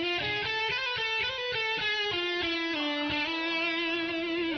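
An electric guitar plays through distortion, with a gritty sustained tone, a rhythmic chugging phrase and then held notes, loud and close, with no talking.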